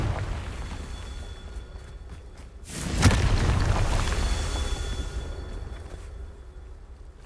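In the Hogwarts Legacy video game, a Confringo blasting curse explodes in a single loud boom a little before the middle, leaving a rumbling tail that slowly dies down.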